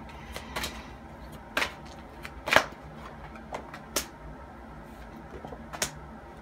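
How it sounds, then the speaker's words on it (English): Oversized tarot cards being shuffled on a table, heard as a few sharp riffling snaps and soft slaps spaced irregularly over a quiet room background, close and moderate, with no talking. "Cards are so gigantic that they're shaking the table as I'm shuffling."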